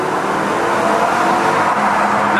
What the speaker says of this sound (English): It's also the last tunnel run with stock exhaust.